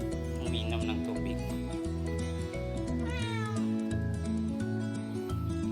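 A Russian Blue cat meows several times over a steady, loud bed of music-like tones that runs through the whole stretch.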